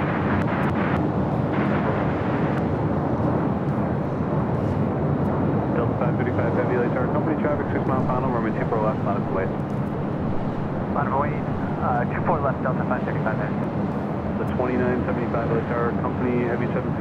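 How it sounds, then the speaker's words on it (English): A Delta 767 airliner at LAX airport produces a broad, continuous jet rumble, steady and fairly loud, with a voice talking over it. "The Delta 767 will now head on over to 24 left for a departure to JFK."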